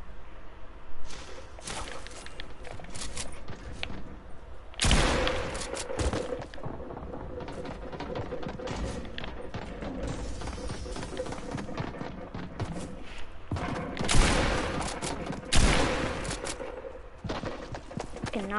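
Rapid bursts of video game gunfire crackle through a busy shooter match, with sharp loud volleys near five seconds and again around fourteen to sixteen seconds amid constant background effects and hoofbeat-like thuds.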